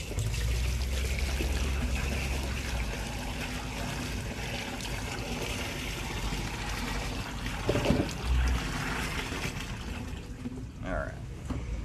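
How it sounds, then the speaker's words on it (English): About five gallons of water is dumped down a sewer drain line between two cleanouts. It makes a steady, rushing gurgle that continues throughout, with occasional knocks and splashes. "Just dumped about 5 gallons of water down the line between the two cleanouts there."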